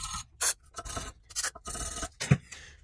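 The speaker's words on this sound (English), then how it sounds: "Put some brake cleaner in this hole. Hit it with a nylon brush." Nylon brush scrubbing a rusty brake caliper hole on a 2005-2012 Nissan Pathfinder after a spray of brake cleaner, several short rasping strokes in uneven bursts, close and dry.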